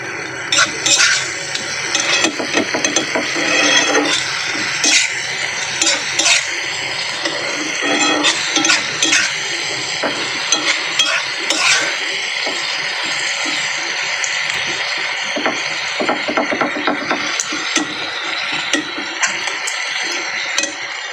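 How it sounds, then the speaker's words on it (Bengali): Spice masala being stirred and fried in a pan with a little water added: a steady sizzle with constant scraping and tapping of the spoon, close and continuous throughout. "একটু জল দিয়ে মশলাটা ভালো করে কষিয়ে নেব।"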